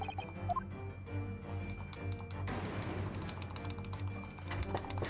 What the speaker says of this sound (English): I want you to hear how fast I'm clicking this button.